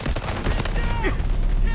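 Rapid gunfire in the mobile shooter Delta Force Mobile, a loud, dense stream of shots in quick bursts, close and continuous with clatter and effects layered over it.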